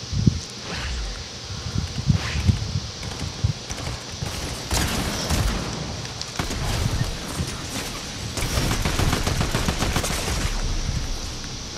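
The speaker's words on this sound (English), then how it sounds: "Someone's shooting at me." Gunfire erupts in a Fortnite match: sharp shots and rapid bursts crackle over a busy game soundscape, growing denser and louder toward the end.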